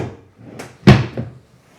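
A drawer on a Homary coffee table slides and shuts with a sharp wooden knock and a softer rebound bump, close and fairly loud, with a brief scrape before it and no voices.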